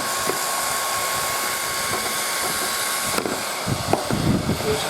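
A hot-air gun runs steadily, heating a tire lever, with a continuous broadband whoosh throughout and some faint clanks and handling noises toward the end.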